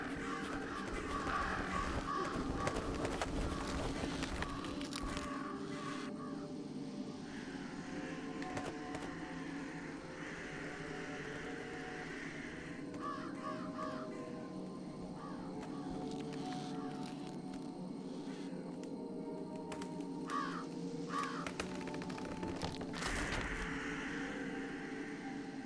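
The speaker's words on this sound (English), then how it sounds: "Get out of here, crows." Crows cawing in the video game Jenny LeClue: repeated raspy caws at intervals over a continuous low game ambience and music bed, moderately loud throughout.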